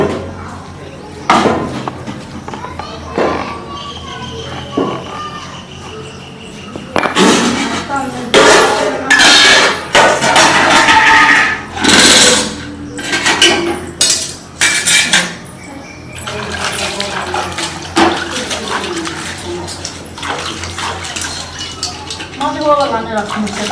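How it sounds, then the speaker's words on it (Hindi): Steel pots, pans and cutlery clatter and clink in repeated bursts as dishes are washed in a Maithili home comedy scene, with voices talking intermittently over the clatter. "हम बर्तन धोइ छी"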